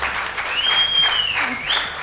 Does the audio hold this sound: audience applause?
yes